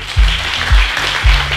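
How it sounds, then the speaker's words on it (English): A summit audience at the Legacy Center in Atlanta applauds as a diffuse clatter of clapping, with three heavy low thumps from a music beat punching through at regular intervals. "if you'd like to give a big round of applause for yourself"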